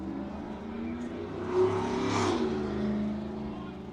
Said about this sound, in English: Someone is showing off their dual exhaust in a 25-mile-an-hour zone,